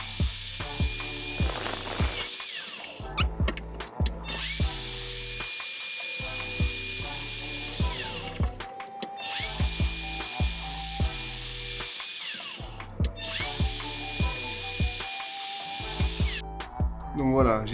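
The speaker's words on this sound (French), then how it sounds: "on va commencer à le percer." Drilling holes in a plastic Tuff Jug part, with a steady close whirring and grinding in long runs of about three to four seconds, broken by brief pauses and clicks, no talk.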